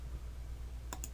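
Two quick, crisp mouse clicks sound close and faint over a low steady hum during 3D modeling work in Blender 3.0, with no speech.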